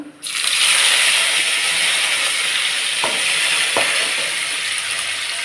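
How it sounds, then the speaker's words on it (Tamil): Curry leaves and urad dal spluttering in hot oil for a peanut chutney tempering: a loud, steady hissing sizzle that bursts in abruptly, with a couple of sharp crackles partway through. "கருவேப்பிலை பொரிஞ்சிச்சு"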